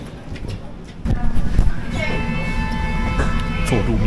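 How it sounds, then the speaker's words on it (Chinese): A Berlin tram runs on a snowy day: a steady low rumble swells after the first second, then a sustained whining motor tone joins, fairly loud and close, with faint voices underneath. "坐路面电车啊"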